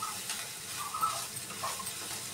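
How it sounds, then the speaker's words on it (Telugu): Capsicum and onions frying in a pan for a capsicum curry, a soft, steady sizzle with faint hiss and occasional stirring, fairly quiet and continuous with no voices. "ఉల్లిపాయలు ఎంతసేపు వేగే అంతసేపట్లో క్యాప్సికమ్ కూడా వేగిపోతుంది"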